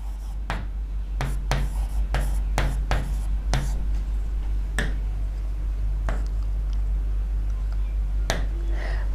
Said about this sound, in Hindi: लिख दूं ये बात?